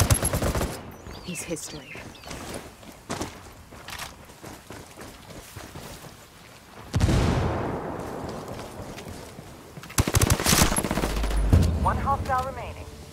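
Rapid bursts of automatic gunfire and shots in the tactical shooter Ghost Recon Wildlands PvP, a sustained fusillade with louder heavy bursts later on, while players call out over the shooting.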